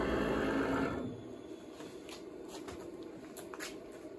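A CNC machine traverses a 100-millimeter move during calibration, a loud buzzing motor whine for about a second that then drops away, leaving quiet room noise with a few faint clicks.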